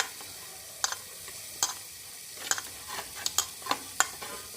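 Onion and garlic sizzle softly in a pan while a spatula taps and scrapes in irregular sharp clicks, the frying staying steady and close beneath them.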